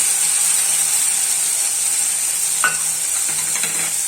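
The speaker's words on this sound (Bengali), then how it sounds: "এবার এই তেলের মধ্যে আমি একটা ছোট সাইজের পেঁয়াজ কুচিয়ে নিয়েছি, সেটা দিয়ে দেব।" Chopped onion hisses in hot oil with a steady, loud, close sizzle, and a few faint scrapes of a spatula come near the end.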